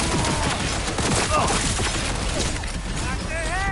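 Rapid gunfire from a Cyberpunk 2077 firefight crackles in dense overlapping bursts, loud and close, under shouted voices.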